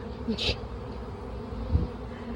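Honeybees buzzing close by as they leave a package, a steady hum with a sharper, louder buzz briefly passing near the start.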